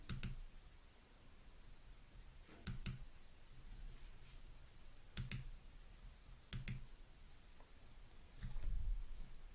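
Computer mouse clicks on a quiet desk, arriving in short doubled pairs spaced a few seconds apart, close and crisp over low background hum with no voices.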